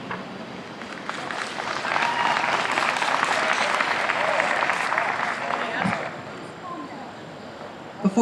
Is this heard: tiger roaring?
no